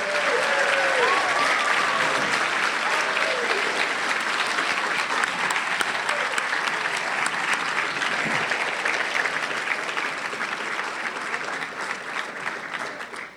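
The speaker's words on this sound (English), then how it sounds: "Let's give another round of applause for all the students who performed here today." Sustained audience applause at a school ceremony honoring service members, praising students who performed, a dense even wash of many hands clapping that holds steady for over ten seconds before tapering slightly, with faint voices mixed in.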